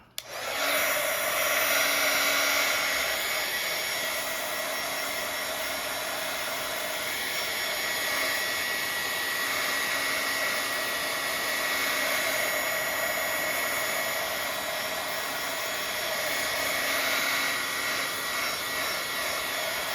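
A hair dryer or heat tool blows steadily to dry black ink on a Bible journal page, a loud continuous whoosh that starts abruptly and holds for the whole stretch with no talking.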